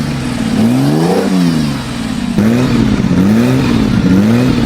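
A Lamborghini engine revs in smooth rising and falling sweeps, two long throttle swells with a brief dip between, loud and close with no voices.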